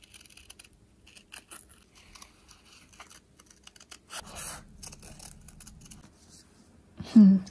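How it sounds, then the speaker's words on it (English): Scissors snip through paper while cutting a rectangle for a Hobonichi Cousin journal page, giving faint close crisp cuts and rustling, with a louder sliding cut midway and a short vocal sound at the end. "I am gonna cut this out as a rectangle instead of like cutting around the breakfast"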